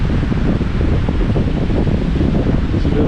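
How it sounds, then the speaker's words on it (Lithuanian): Strong wind at the seaside with waves stirred up, a loud, unbroken roar buffeting the microphone for the whole stretch, with no voices. "Vėjas didesnis, tai banguoja."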